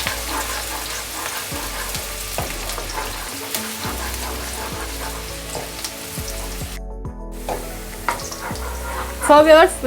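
Onions sizzle and fry in hot oil until light golden, a steady crackling hiss with occasional stirring scrapes and clinks of a utensil.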